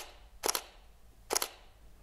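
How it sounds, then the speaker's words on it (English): An Olympus DSLR camera shutter clicks twice, each a crisp mechanical double snap, close and clear with a short pause between them. "let's activate the shutter on this just to show you what it sounds like"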